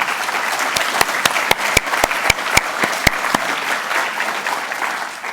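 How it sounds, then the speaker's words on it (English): Audience applause for library curatorial staff at an oration on memory institutions, a steady wash of clapping with a few sharp, loud individual claps standing out near the start before fading slightly toward the end. "could you please give our wonderful curatorial staff a huge round of applause for the great work they do on our behalf"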